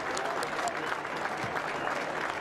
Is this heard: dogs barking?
no